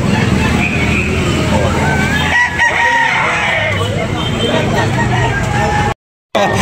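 A rooster crows at a chicken-selling market among gamefowl up for sale, the crow rising over a busy babble of talk and crowd noise before a brief dropout at the end.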